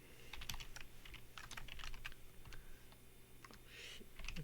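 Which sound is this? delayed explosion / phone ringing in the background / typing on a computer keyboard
typing on a computer keyboard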